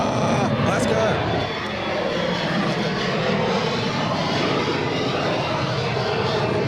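A plane at Ted Stevens Anchorage International Airport, Alaska, roaring loudly and steadily in a continuous engine wash throughout, with people talking under the noise.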